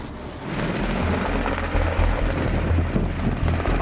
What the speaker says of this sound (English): A black helicopter literally came into New Orleans amidst the worst of the tragedy